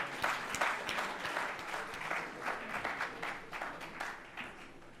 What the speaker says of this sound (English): May I request a round of applause for the dignitaries?